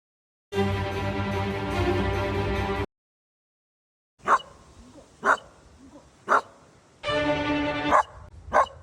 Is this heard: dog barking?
yes